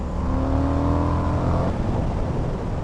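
An Indian FTR 1200 motorcycle engine revs hard under load with rising harmonics, then eases off partway into a rougher, lower rumble, close and loud without talk.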